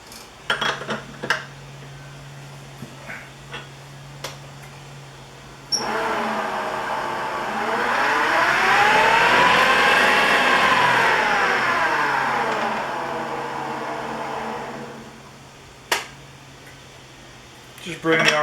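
A wood lathe with segmented rings on its chuck spins up, its motor whine rising in pitch and then falling again as it slows, with scattered clanks and handling noises before and after.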